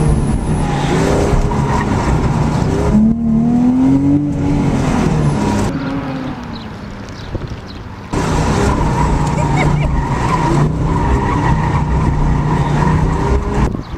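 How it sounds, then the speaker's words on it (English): Porsche 911 GT3, a rear-engine car with over 400 horsepower, recorded from inside the cabin at an exotic car charity ride event: a loud, steady engine roar with rising and falling revs, a brief dip in the middle, then strong again. "This is the Porsche 911 GT3."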